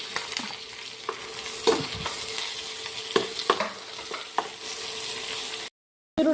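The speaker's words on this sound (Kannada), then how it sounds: "ಈಗ ಹಾಕಿ ಇದನ್ನು ಫ್ರೈ ಮಾಡ್ತಾಯಿದ್ದೀನಿ." Onion fries in hot oil with green chilli and curry leaves for an egg curry, a steady close sizzle broken by repeated spoon scrapes and stirring knocks, ending in a brief silence.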